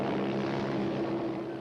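Helicopter rotor and engine drone steadily in a short, continuous burst at moderate distance, with no other sounds.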